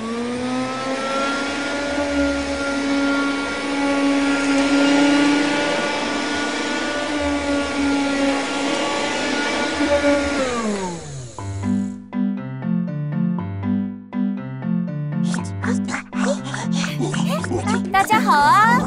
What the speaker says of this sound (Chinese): 观察吸尘器。